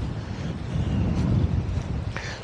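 Wind buffets a microphone outdoors near an ancient stone structure in December, a steady low rumble that swells slightly midway, with a faint brief tone near the end.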